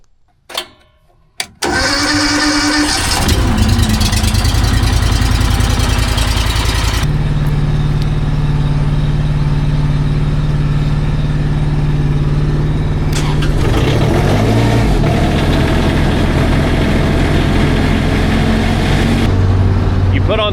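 A mini skid steer or mini dumper engine starts up, then runs at a steady, loud idle while warming up, its tone shifting partway through, with a voice heard briefly over the running engine.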